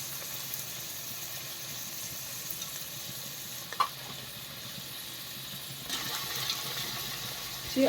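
Finely chopped green beans and carrots sizzle in oil in a pan, a steady low hiss with a couple of brief clinks and a fuller bubbling burst near the end; no one talks.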